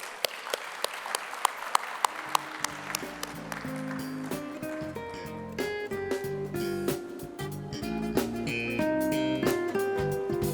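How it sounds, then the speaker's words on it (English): Audience applause at a health and wealth business event as a speaker is welcomed on stage: sharp claps at first, swelling into steady clapping as music rises underneath and carries through. "on stage with a big round of applause"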